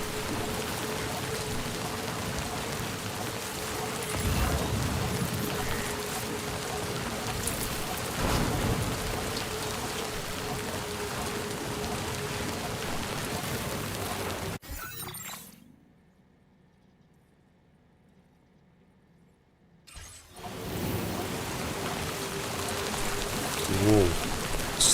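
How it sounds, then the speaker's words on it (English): Heavy storm rain with rolling thunder in Dark Souls 2, a dense, steady downpour that cuts to near silence for a few seconds before the rain returns just as loud. "Whoa, storm and thunder, so we have to go and find shelter."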